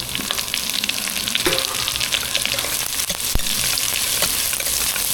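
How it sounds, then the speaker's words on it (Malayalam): Onion sautéing on a low flame with curry leaves for sambar rice, a steady close sizzle with faint stirring scrapes and clinks throughout. "എന്നിട്ട് ഇതിനകത്തോട്ട് ഞാൻ ഈ സവാള ഒന്ന് വഴറ്റാനിടുന്നത്."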